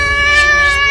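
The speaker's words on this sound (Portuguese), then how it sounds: "Hug Hug, pega o gato." A cat meows once in a cartoon superhero story, a single sustained, harmonic, fairly loud call filling the short moment without speech.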